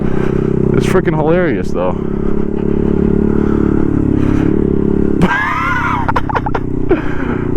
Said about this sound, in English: I do a burnout every time I hit second gear